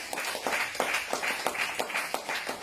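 Church congregation clapping in acclamation for Jesus during a worship service, a rhythmic run of fairly faint claps repeating steadily with no voices over them.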